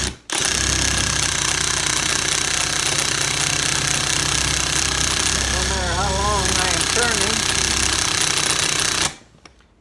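An impact driver fitted with a rotary hammer bit rattles continuously against brick in a loud, steady, close hammering drone for about nine seconds, then cuts off abruptly.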